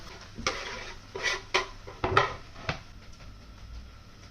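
A spoon scrapes and knocks through chickpea curry with canned chickpeas and tomatoes in a pot, giving several distinct clanks against the metal at irregular intervals over a soft background sizzle.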